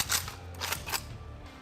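A few sharp metallic clicks and clacks of a rifle's action being worked, close and crisp, followed by quiet.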